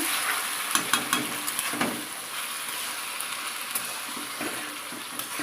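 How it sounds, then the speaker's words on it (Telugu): Country chicken meat frying in oil in a pan, a soft, continuous sizzle with occasional spatter pops and stirring clicks, heard fairly faint and close with no talking. "ఇప్పుడు దీన్ని ఆయిల్లో బాగా ఫ్రై అవనిద్దామా"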